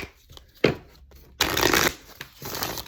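Tarot cards being shuffled by hand, a few quick riffling bursts with short pauses between them, close and fairly soft, with no talking.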